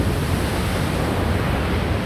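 Ocean surf washing onto a sandy beach, a steady full-bodied roar of breaking waves with a faint windy hiss, close and continuous with no voices.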